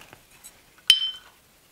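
A pair of glass cupcake-shaped Christmas ornaments knock together in one bright, close clink, preceded by faint light taps.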